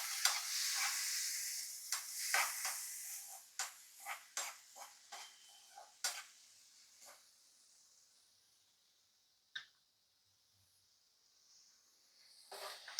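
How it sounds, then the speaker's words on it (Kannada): Chopped tomatoes fry in a pan, a soft sizzle with a string of brief scraping stirs that thin out and fade to near quiet, all faint and without talk. "ಇವಾಗ ಇದಕ್ಕೆ ನಾವು ಕಟ್ ಮಾಡಿ ಇಟ್ಕೊಂಡಿರೋಂಥ ಟೊಮೆಟೊನ ಆ್ಯಡ್ ಮಾಡ್ಕೊಳ್ಳೋಣ. ಅದು ಕೂಡ ಆ್ಯಡ್ ಮಾಡಿ ಫ್ರೈ ಮಾಡ್ಕೊಬೇಕು ಸ್ವಲ್ಪ ಹೊತ್ತು."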